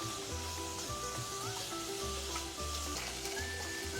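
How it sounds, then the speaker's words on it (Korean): Onion and carrot stir-frying in a pan with a cabbage side dish, a quiet continuous sizzle under steady low hum and faint tonal background, without talking. "준비해 두었던 양파, 당근 이렇게 볶아주세요"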